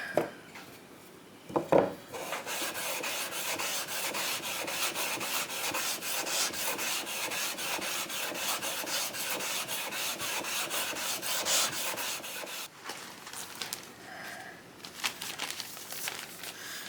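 Sandpaper rubbed by hand over a rubber sanding pad, a continuous dry scratchy rasp of quick back-and-forth strokes lasting about ten seconds, close, followed by softer intermittent scraping.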